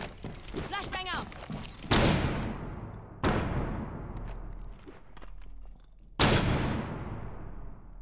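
Gunfire in the video game Rainbow Six Siege: a voice at first, then three loud, sharp blasts spaced a couple of seconds apart, each with a long ringing decay and a high tinnitus whine after.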